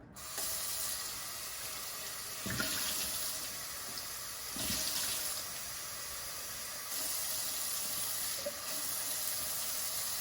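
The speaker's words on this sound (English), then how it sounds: "So I'm going to put the raw tap water in here." Tap water runs steadily into a container, a continuous splashing hiss with a few brief louder gushes, no voices.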